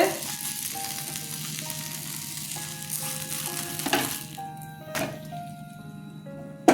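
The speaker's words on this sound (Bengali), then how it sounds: "দেখুন এইভাবে ভাজতে হবে" Vegetable rolls frying in oil, giving a steady close sizzle throughout, with occasional utensil knocks and a tonal melody playing in the background.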